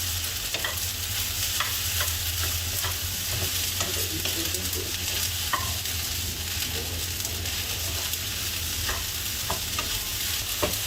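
Egg fried rice stir-fried in a hot wok with all ingredients added, giving a steady close sizzle broken by repeated scraping and tossing clicks of the spatula against the pan, with no talking.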